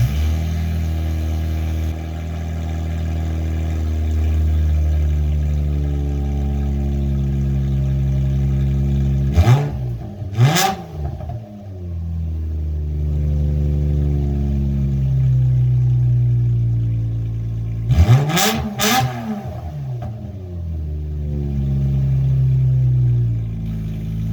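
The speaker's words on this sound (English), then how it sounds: "we're going to start it up, just see how it sounds without a muffler, because these 6-cylinders sound really cool" A 2000–2004 Subaru Outback six-cylinder engine with no muffler idles in a loud, raspy rumble nearby, blipped twice into sharp revs that quickly fall back to idle.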